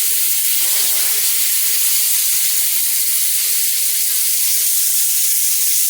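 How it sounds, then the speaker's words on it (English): Loud, continuous sizzling and hissing of steak searing on a hot flat-top griddle, steady and close with no pauses. "You're getting a nice sizzle, so you're creating a nice char."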